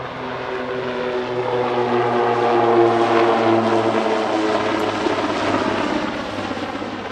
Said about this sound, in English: the Swiss PC-9 team, seen here arriving in formation with their Swiss Air Force counterparts from the Super Puma display team